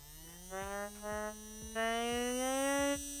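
A small BLDC motor salvaged from a DVD player whines as it spins up, its pitch rising in steps with faint clicks, close and fairly quiet.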